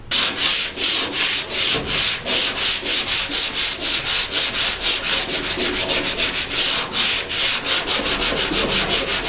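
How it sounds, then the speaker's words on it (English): Adhesive being sanded off a garage floor by hand, with steady, rapid back-and-forth rubbing strokes in a regular rhythm, loud and close throughout and no voices. "So we're going to sand that adhesive, see if we can cut it off maybe with some lacquer thinner first, and then try to sand it down."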